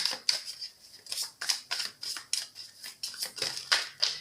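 Tarot cards shuffled by hand with a couple slipping out of the deck, giving a rapid series of crisp papery flicks and snaps in an even rhythm, close and clear with no talking.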